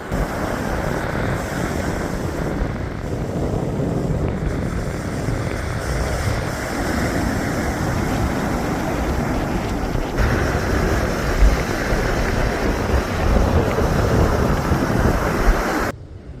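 Ocean surf rumbles continuously, a broad wash of breaking waves mixed with heavy wind buffeting the microphone, loud and unbroken throughout.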